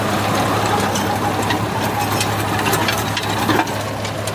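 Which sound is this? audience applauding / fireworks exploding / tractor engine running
tractor engine running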